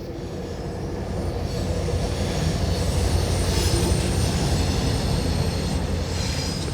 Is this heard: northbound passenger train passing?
yes